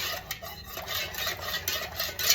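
Fragrance oil being stirred into melted candle wax in a container while making a fall candle: a steady, close swishing and scraping that runs without pause, with no voices.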